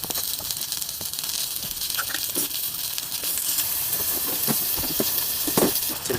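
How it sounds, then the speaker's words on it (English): Chopped pepper and onion frying in oil at a forest camp, a constant close sizzling hiss with small crackles and pops, rising slightly in intensity, with no speech. "So I've got pepper, onion, and I'm going to put some oil in that and cook it"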